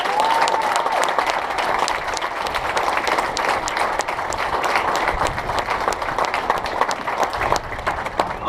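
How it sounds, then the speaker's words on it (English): Dense, sustained applause from a crowd at a POW/MIA parade on an Air Force base parade ground, many hands clapping steadily and evenly at a middle distance for the full stretch. "I want to hear a round of applause for every airman out there who's on the parade ground."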